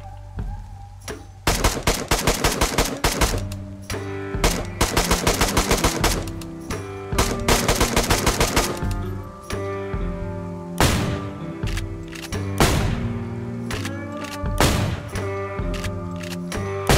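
Heavy-calibre rounds firing in the survival game DayZ, with long rapid automatic bursts that repeat loud and close, broken by short pauses, and no talk over them.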